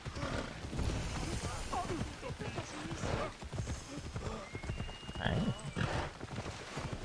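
Steady clip-clop of a horse galloping in Assassin's Creed runs throughout, with voices and busy background noise mixed in and an occasional whinny.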